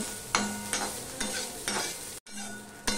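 Soybean chunks fry in oil over medium-low heat while a spatula stirs them in the pan, giving a quiet steady sizzle broken by several sharp scraping strokes and one brief pause.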